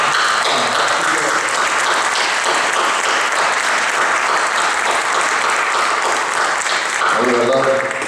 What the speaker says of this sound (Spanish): vamos a dar un aplauso a Juan Carlos